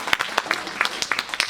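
A live show audience gives a short burst of applause, with sharp separate claps close by and no talk over them.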